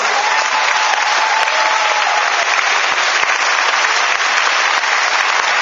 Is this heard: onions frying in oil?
no